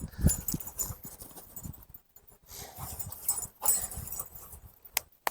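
A dog named Dax shuffles and circles near a kennel before going in, with scrabbling paw steps and soft knocks on the floor in short uneven bursts, close and fairly quiet, with no talking.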